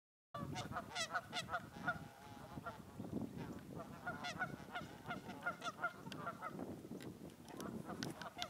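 A flock of geese honks continuously and raucously at close range on a disc golf course, with overlapping calls forming a dense, noisy chorus.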